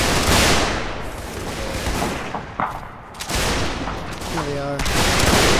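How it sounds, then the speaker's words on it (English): Artillery and musket fire on a battlefield in Mount and Blade Warband's Napoleonic NaS mod: dense rolling volleys and booms filling the whole stretch, briefly easing in the middle, with someone talking briefly over the din. "it looks like the artillery is firing at us right now"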